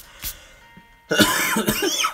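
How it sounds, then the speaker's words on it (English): A single sharp cough, followed after a brief pause by a harsher burst of coughing and throat clearing, close to the listener. "That was a nasty cough"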